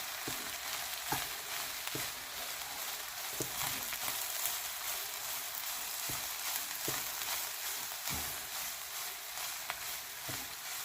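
Fish puttu fries with onions in a pan, a steady hiss of oil running throughout, with a soft scrape or tap of the stirring spoon every second or so.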